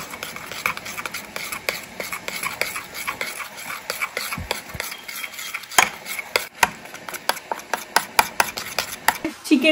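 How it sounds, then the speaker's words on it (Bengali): A spoon mixes yogurt with cumin and coriander powder in a bowl, giving close, repeated clinks and soft scrapes in an irregular rhythm over a low kitchen background. "জিরে আর ধনের গুঁড়ো দিয়ে দইটা আর কি মিশিয়ে নেবো।"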